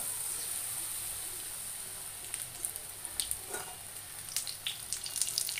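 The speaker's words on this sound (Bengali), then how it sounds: "এবার কড়াইতে তেল গরম করে নিচ্ছি" Chicken pakora fries in hot oil in a wok, a soft steady sizzle that grows busier with sharp crackles and pops in the second half, heard fairly quietly.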